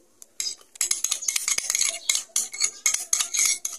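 Yeast-risen batter for coconut cheese pukis cake gets a quick stir, a close run of rapid scraping clinks of utensil against bowl in irregular bursts.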